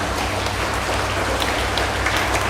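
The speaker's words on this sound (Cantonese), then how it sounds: "俾啲掌聲佢哋好嗎？" A school audience at a primary school's 65th anniversary thanksgiving ceremony applauds its teachers and staff: dense, steady, continuous clapping that fills the room like rain, loud and unbroken, with no voices over it.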